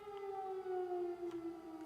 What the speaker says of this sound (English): Is the siren real? Yeah, I'm in Ukraine.